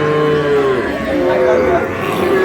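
Several cattle, including Sahiwal bulls and calves, moo in overlapping, drawn-out calls over a busy background murmur at a livestock market in Dinajpur, close and loud throughout.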